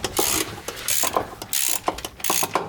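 Hand ratchet clicking in quick bursts while loosening a transmission bolt on a JZX100 Chaser with a 1JZ engine, close and distinct with short pauses between strokes.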